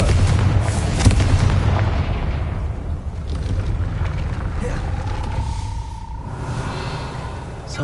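A Confringo explosion spell goes off in the Hogwarts Legacy video game, giving a rumbling boom over a low, noisy roar of ambience that fades, followed by a rising tone.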